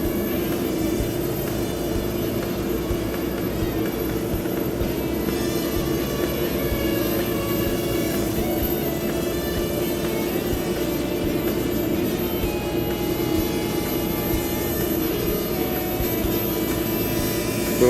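Small Hubsan X4 quadcopter drone hovering nose-in, a steady, continuous whirring buzz of its tiny motors holding a constant pitch throughout with no talk.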